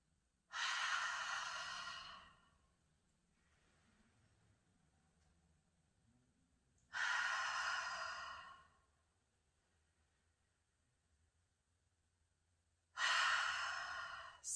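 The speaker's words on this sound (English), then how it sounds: "inhale deeply through the nose, filling your belly and your chest, and then exhale through the mouth with an HA sound" Three slow, deep exhalations through the open mouth with a breathy ha sound during a beginner yoga flow, each lasting about two seconds and separated by quiet pauses for inhaling.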